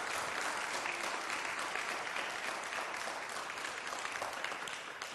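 A large church congregation applauds steadily, dense and loud throughout, tapering only slightly near the end.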